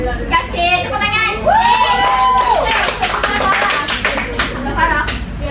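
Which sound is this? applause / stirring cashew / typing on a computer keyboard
applause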